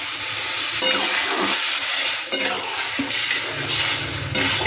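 Water poured into a hot pan of oil and spices for a chitol fish belly curry sets off a loud, steady sizzle and hiss, with intermittent stirring scrapes throughout, close up.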